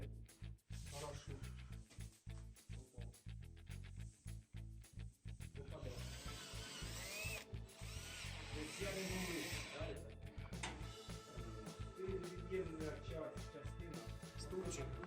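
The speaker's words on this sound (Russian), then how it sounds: "В центре мы прикручиваем купол самонарезными винтами со сверлом, а по краю обычными саморезами по гипсокартону" A power screwdriver drives self-drilling screws into a plasterboard ceiling dome in short whirring bursts, then a longer sustained run, with someone talking throughout.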